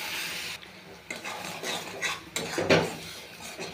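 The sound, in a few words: stirring spices with a little water in a pan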